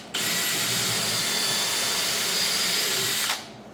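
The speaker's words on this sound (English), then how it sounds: "I would pre-drill" A power drill pre-drills a hole in wood at high speed in one continuous burst of about three seconds, loud and close, then stops.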